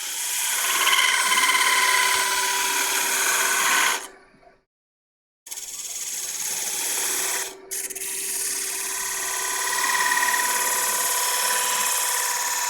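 Steady dry scraping and rubbing of a detail gouge cutting into wood for French dentelle lace carving, continuous and close, with two short silent breaks before the cutting resumes.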